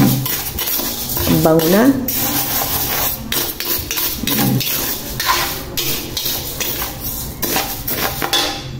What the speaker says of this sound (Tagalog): Halo-haluin po na natin para balance yung pagka-itim at saka brown.